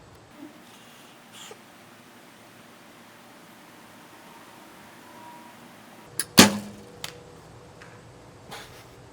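A compound bow fitted with double front stabilizers looses an arrow in one sharp, loud release, followed by a brief string and limb rattle and a faint later knock against a quiet outdoor background.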